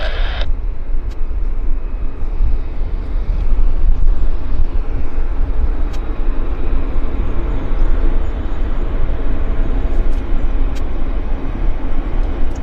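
A Bombardier C Series airliner taxis at Vancouver airport, a steady low engine rumble and hiss holding at a constant level throughout, heard from a distance outdoors with some wind on the microphone.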